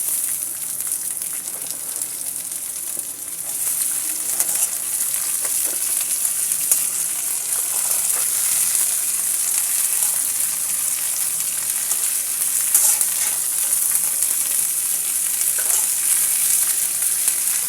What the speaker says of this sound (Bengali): পুঁই শাকের ফুলটা আমি পেঁয়াজ এবং রসুনের সাথে ভালো করে মিশিয়ে নিচ্ছি